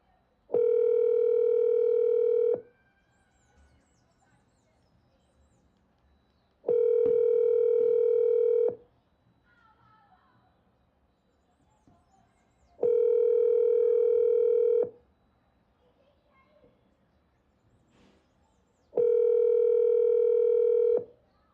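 A phone line rings out while calling someone: four evenly spaced two-second tones, each separated by about four seconds of near silence, clear and close.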